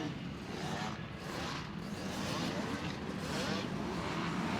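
A KTM dirt bike at full throttle during an arenacross race, a steady, loud engine roar blending with other bikes, with an announcer's voice running over the din.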